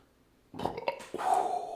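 Someone lets out a loud, close burp after drinking a Black India Pale Ale; it comes as a couple of quick bursts and then a longer, drawn-out belch, with no talk over it.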